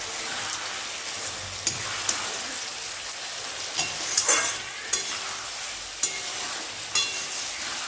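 Vegetable curry with drumsticks fries and is stirred in a pan for fish curry, giving a steady close sizzle with scattered scraping clicks of the spoon.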